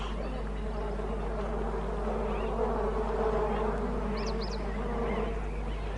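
Dense swarm of bees buzzing steadily around a waterhole in hot African bush, a continuous close drone with a few sharper passes, no voices.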